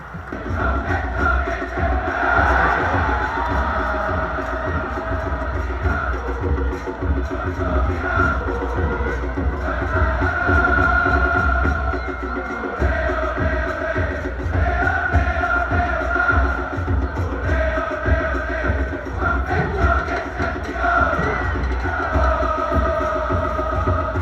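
A large crowd at a Suwon Samsung football match roars and cheers continuously, a dense, loud wash of many voices sustained throughout.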